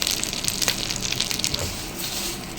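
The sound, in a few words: curry leaves frying in oil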